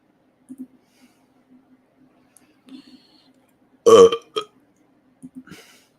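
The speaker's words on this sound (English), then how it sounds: "God, I cannot stop burping." A single loud, rough burp erupts from a person near the microphone, set against faint clicks and quiet mouth sounds in an otherwise hushed room.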